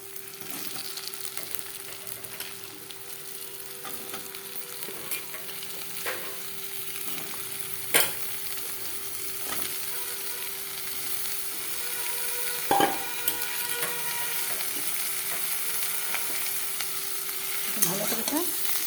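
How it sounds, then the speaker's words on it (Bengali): Vegetables, added to potatoes, onion and chilli, fry in a pan for a small-fish chachuri, giving a steady close sizzle with a few sharp utensil clinks scattered throughout. "এখন আমি সবজিগুলো আস্তে আস্তে দিয়ে দেবো।"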